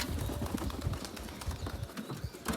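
Soft, low cooing of pigeons runs throughout, several birds murmuring in a steady rolling rhythm against a faint background hiss.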